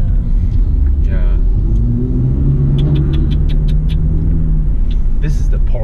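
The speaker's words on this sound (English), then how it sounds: "This is the Porsche 997." A Porsche 997 passes close by with a loud, steady low engine rumble that swells into a rev, while people talk over it.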